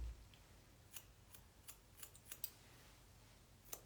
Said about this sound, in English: Little itty bitty snips from the outside in.